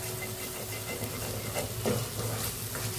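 Oysters being stirred into masala in a hot pan, a continuous close sizzle with soft scraping and wet stirring sounds, steady and moderately loud without speech.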